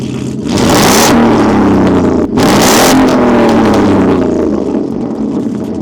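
A loud car engine revs hard, recorded a few centimetres from the exhaust pipe: two roaring bursts of exhaust with a brief drop between them, then settling into a rumbling idle.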